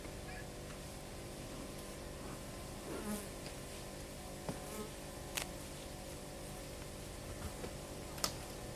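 Honey bees buzz around an open, strong hive with queen cells, a steady close drone with occasional louder individual bees passing near.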